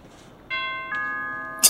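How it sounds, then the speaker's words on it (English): A house doorbell rings with a two-note ding-dong chime that rings on with a sustained tone, loud and near, followed by a brief knock-like burst at the end. "Ring the bell."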